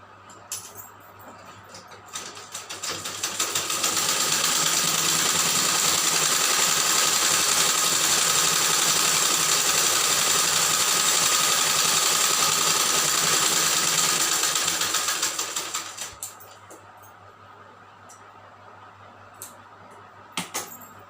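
A sewing machine stitching a nightie starts up, runs in one steady loud whirring burst of about twelve seconds, then stops, leaving a few quiet clicks and handling noises.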